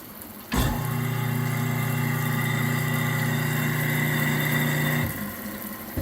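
A newly installed garbage disposal switches on with a sudden start and runs steadily for several seconds with a loud, even motor hum, then cuts off and winds down.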